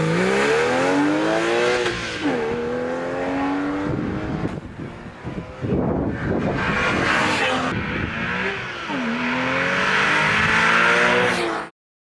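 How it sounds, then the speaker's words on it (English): A 2003 Porsche 911 Targa drives loudly and close, its engine note revving up and down through repeated gear changes with rising pitch sweeps, with brief tire noise mid-run. "This is a 2003 Porsche 911 Targa"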